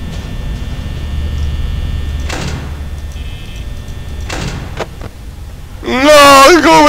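Security doors in Five Nights at Freddy's slam shut twice with heavy mechanical thuds over a low electrical hum, followed by a loud shrill burst at the end.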